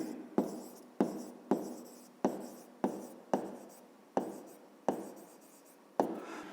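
A pen writes a word by hand on paper, heard close up as about nine separate sharp strokes, each a crisp tap trailing into a brief scratch, evenly spaced with short pauses and no talking.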